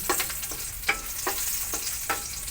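Chili peppers briefly cooking in a pan during preparation of chicken afritada, a steady close sizzle with periodic scraping stirs every half second or so.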